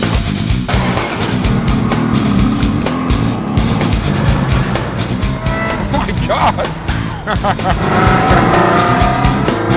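Ferrari or Lamborghini sports car driving, its engine roaring loudly and steadily throughout with tire squeal and skidding noises, while a person exclaims over it.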